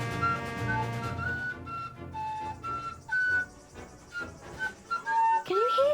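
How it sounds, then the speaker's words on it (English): A tin whistle plays a light melody of short, bright, clear notes in a storybook scene, mixed with soft background music. "Like someone playing a tin whistle."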